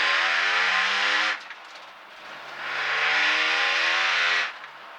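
A BMW E46 race car engine revs loudly and close up in two long, sustained bursts, separated by a brief drop to a lower idle-like drone.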